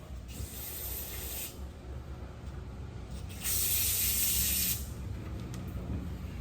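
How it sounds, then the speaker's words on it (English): Bursts of hissing spray rinsing a Graco GX-7 spray gun part come on and off, a short blast early and a louder longer one in the middle, over a quiet background. "I still like to spray it off"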